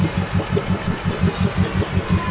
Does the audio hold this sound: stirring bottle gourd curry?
no